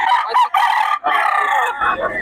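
A bulik gamecock rooster crows loudly and close by at a gamefowl market in Bocaue, with a strained, broken cock-a-doodle-doo.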